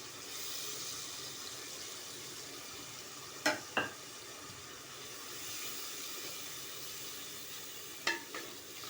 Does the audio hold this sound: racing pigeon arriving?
no